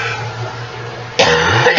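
A single close, loud throat clearing, a rough harsh cough-like burst after a moment of quiet.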